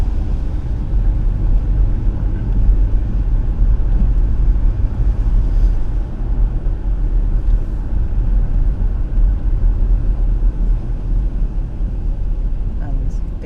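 Busy road traffic heard from inside a moving car on the way through Blackpool, a loud continuous low rumble of engine and road noise with cars passing; no speech.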